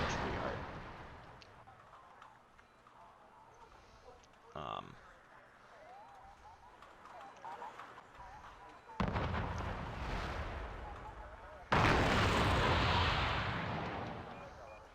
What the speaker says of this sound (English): There's some rocket artillery coming in from this grad.